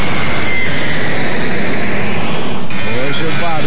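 Loud, continuous roar of an airplane flying low near Congonhas airport in São Paulo, filling the whole stretch with a steady engine drone while a voice speaks over it.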